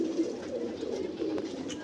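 Golden high-flying pigeons coo softly and repeatedly nearby, low throaty murmurs rolling over quiet background noise.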